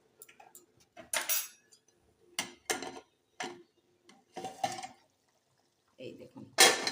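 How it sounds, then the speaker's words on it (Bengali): A lid comes off a pot of slow-cooked mutton made without a pressure cooker, giving several sharp metallic clinks and scrapes spread across the moment, with a voice talking quietly in between. "এবার আমি ঢাকাটা তুলে দেখাচ্ছি"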